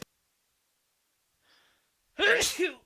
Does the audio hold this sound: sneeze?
yes